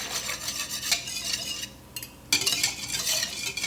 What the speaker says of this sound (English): So I'm mixing in the entire milk now.